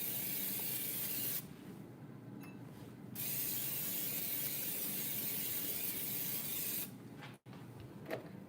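Cooking oil sprayed from a can into a pan before making an omelet: two steady hissing sprays, each lasting a couple of seconds, close and fairly soft, with no talking.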